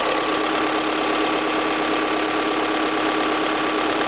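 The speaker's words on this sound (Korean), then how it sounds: "TDI의 엔진 사운드 한번 들어보고 마무리하도록 하겠습니다" A German SUV's TDI diesel engine idling steadily with a constant rumbling drone and a faint high whine, heard up close under the open hood without any talking.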